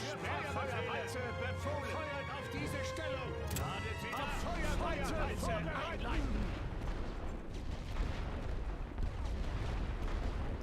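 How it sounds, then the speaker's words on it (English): Enemy artillery pounds positions in The Great War: Western Front, a steady barrage of booms and rumbling blasts with the tonal drone of game music, while someone talks over it throughout. "Is the enemy bombarding me?"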